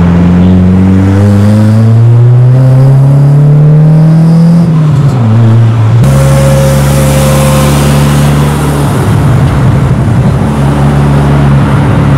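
A Honda Civic with a new exhaust revs, the engine tone climbing steadily then dropping, followed by a deep, throaty idle that rumbles loudly and close up.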